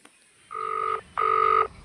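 Telephone ringing for an incoming call: two electronic ring bursts, each about half a second, separated by a short gap, clear and close with no voices.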